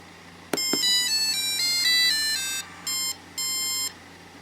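A passive buzzer driven by a microcontroller plays a short screen-transition melody as a bright run of pure electronic tones, a couple of sharp clicks, then a few sustained notes with short gaps, clear and alone.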